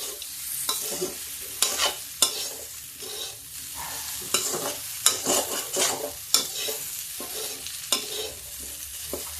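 Red chili powder and spices frying in a pan over low gas heat, a steady close sizzle broken by repeated stirring scrapes and knocks, with no talk.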